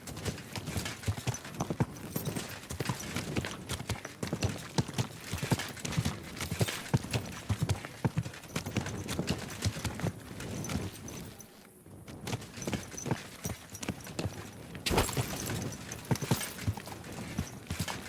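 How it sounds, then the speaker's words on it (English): Steady clip-clop of horse hooves walking in Kingdom Come: Deliverance II, rhythmic and close, with a brief snort or whinny mixed into the continuous hoofbeats. "Easy, good horse."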